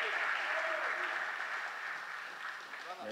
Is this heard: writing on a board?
no